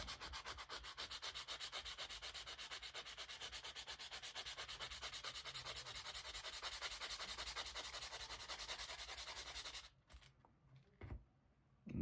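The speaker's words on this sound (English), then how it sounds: "Just clean it up with the 800 grit." A Gundam model kit part is sanded with 800 grit sandpaper in fast, even, rhythmic scratching strokes, close and quiet, stopping near the end with a couple of light knocks.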